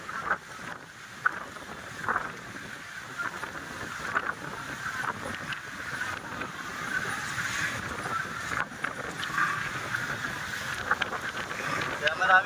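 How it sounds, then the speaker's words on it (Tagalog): Strong typhoon wind roars steadily during heavy rain and flooding near a flyover in Zapote, Las Piñas City, a constant dense rushing noise with small gusty bumps throughout. "Napakalakas po ng hangin."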